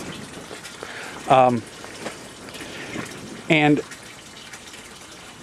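Water pumped through an aquaponics system with its valves opened all the way, a steady rushing hiss running throughout beneath two short bursts of a voice.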